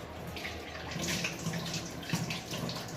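Tap water running steadily at a sink while dishes are washed by hand, a soft continuous splash with faint clinks of utensils, moderately close and quiet.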